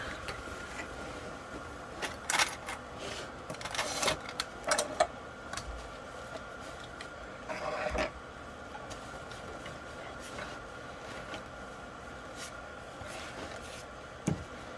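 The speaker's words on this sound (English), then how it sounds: "I've got to sew these guys up on the sides." A sewing machine stitching up the sides of a handmade bag, giving a steady mechanical drone with scattered clicks and rubbing of fabric, running for the whole stretch without talk.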